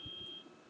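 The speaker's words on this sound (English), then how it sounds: "fire alarm thing going off in my house" A household fire alarm gives a single thin, high, steady beep that cuts off after a moment, faint against a low background hum.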